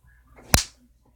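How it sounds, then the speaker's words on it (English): A single sharp slap sound effect for a hard slap across the face cracks loud and close, a sudden crisp smack with a brief decay, surrounded by near silence. "I slapped her hard across the face. Now I gotta do the sound effect."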